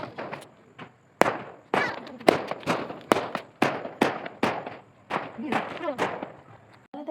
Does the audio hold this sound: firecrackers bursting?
yes